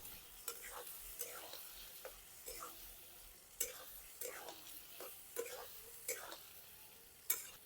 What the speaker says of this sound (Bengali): এবার আলুটাকে একটু ভালো মতো ভেজে নেব